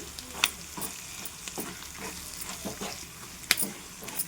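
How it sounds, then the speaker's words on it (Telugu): Raw tamarind and green chili chutney being stirred into hot tempering in a pan, giving a soft continuous sizzle with repeated scraping and a couple of sharper utensil clicks, close and steady. "ఇట్లా వేసిన తర్వాత చక్కగా అటు ఇటు ఇదంతా కలిసేలాగా కలిపేసుకోవాలి"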